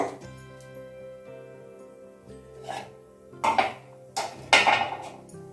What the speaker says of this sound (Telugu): స్టవ్ ఆన్ చేస్తున్నాను బాగా బాణలు పెడతాక